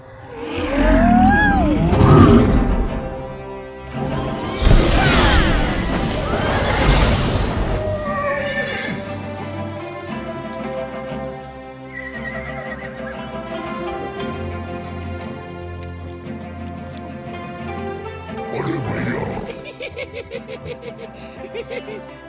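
A horse in a dubbed fantasy action film gives loud, drawn-out whinnies near the start, with more neighing and snorting bursts later over a dramatic music score and booming effects.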